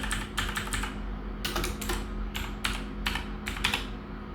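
Close, crisp keystrokes on a computer keyboard come in quick irregular bursts separated by short pauses, with no talking.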